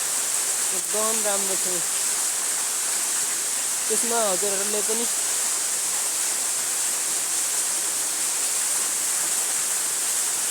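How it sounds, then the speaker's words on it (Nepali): A steady, loud rush of falling water fills the whole clip, with someone speaking briefly over it twice. "झरना"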